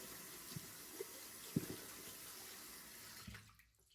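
Water from a tap runs steadily over a synthetic-knot shaving brush, a continuous close splashing hiss with a few small knocks, stopping near the end.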